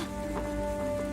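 Steady rain pours onto a rooftop in Tomb Raider: The Angel of Darkness, a constant hiss of drops on the surface with a faint tonal hum from the game underneath.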